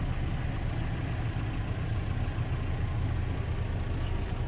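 A tractor engine runs steadily during silage baling on a farm field, a loud continuous low rumbling drone with no break, close by and without speech.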